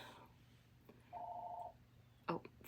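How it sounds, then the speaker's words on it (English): A phone rings faintly from elsewhere in the house, one short steady electronic ring tone heard in quiet room noise, followed by a brief louder clatter near the end. "phone's ringing."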